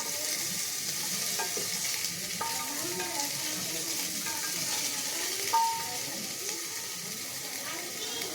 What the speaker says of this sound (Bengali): সব সবজিগুলো দিয়ে আমি অল্প একটু ভেজে নেব,